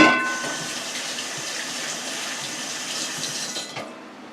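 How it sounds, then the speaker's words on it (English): Hands are washed under a running tap in a kitchen, a steady close rush of water with slight splashing changes that fades as the flow is cut off. "Let me wash my hands."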